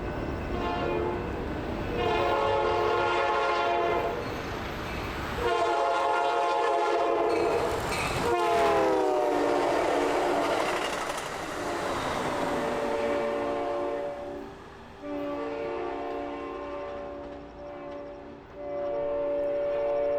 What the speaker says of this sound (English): Next up is Amtrak 503, Cascades service from Seattle, Washington to Eugene